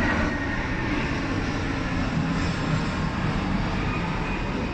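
An Airbus A320 passenger plane flies overhead at Heald Green, its engines producing a loud, unbroken roar that stays steady from start to finish.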